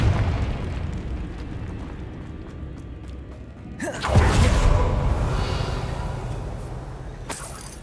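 Hogwarts Legacy Confringo fire spell bursts into a loud, broad explosive whoosh midway, rumbling and crackling as it decays, with a sharper burst near the end over low ambient noise.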